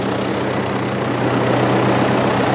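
An MTZ 952 diesel tractor engine idling close by, a loud steady low rumble with a slight vibrating throb.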